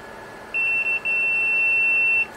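A multimeter's continuity tester beeps steadily across the shorted output capacitors of a Mackie 1202-VLZ3 mixer's linear voltage regulators: a clear, high, sustained tone with one brief dropout near the start, heard alone.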